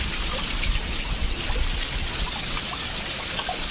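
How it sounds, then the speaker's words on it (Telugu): Water trickles and drips down inside a flooded rocky tunnel on a hiking trek, a steady hiss of splashing flow, close and continuous. "వాటర్ ఇలా పడుతుంది కిందకి"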